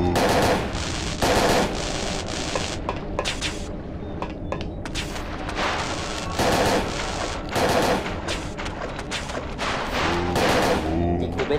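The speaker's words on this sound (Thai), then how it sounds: "กูยิงก่อนเลยนะ" Bursts of video game gunfire in Parasite Eve 2, loud repeated volleys of rapid shots and booms spaced through the clip, with a player talking between them.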